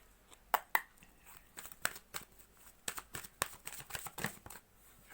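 Tarot cards are shuffled and flicked in a run of crisp riffles and snaps, fairly faint and close, with small pauses between bursts.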